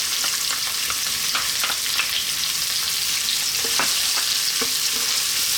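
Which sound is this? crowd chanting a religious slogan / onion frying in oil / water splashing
onion frying in oil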